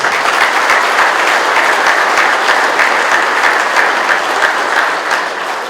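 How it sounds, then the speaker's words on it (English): Loud, sustained applause from a crowd, dense clapping that holds steady and tapers slightly at the end. "I think we all deserve a big round of applause"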